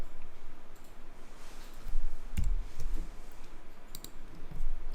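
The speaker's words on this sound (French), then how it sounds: "si vous enfoncez la touche suppression sur le clavier" The delete key is pressed on a computer keyboard, giving two or three sharp, brief clicks over faint room hiss.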